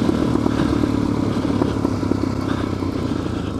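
Dirt bike ridden through loose sand on a New Mexico track, its engine droning loud and steady with close rough clatter and no pause from start to end.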